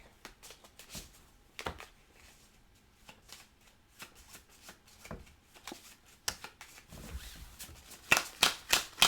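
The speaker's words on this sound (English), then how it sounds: "I have no deck, so I shuffle" A deck of cards being shuffled during a tabletop game, a run of riffling bursts that grow louder and sharper toward the end, close by with no voices.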